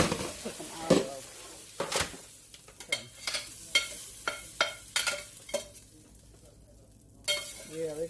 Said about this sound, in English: Yeah, they got a nice little sizzle on them.